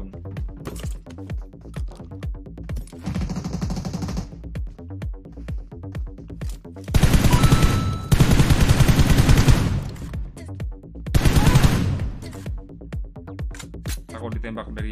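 Gunfire in a mobile battle-royale shooter, an AUG rifle firing from a distance, comes in several dense bursts of shots between stretches of a player talking.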